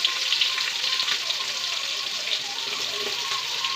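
Onions, curry leaves and dried red chillies sizzle in hot oil in a pan for bean palya, a steady close crackling fry without pause.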